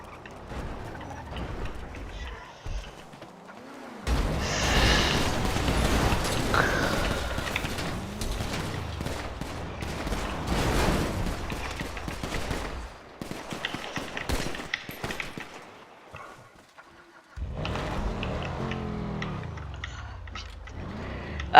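Bursts of rapid gunfire and booming shots in the video game FiveM come and go in clusters, with quieter gaps between them and engine-like rumbles mixed in.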